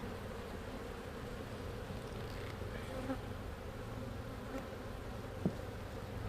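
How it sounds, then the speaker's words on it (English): Honey bees drone in a steady, dense hum throughout while a hive is being split, the buzz close and continuous with only a few faint knocks and clicks over it. "I'm going to have to put up with some frustrated bees for a minute"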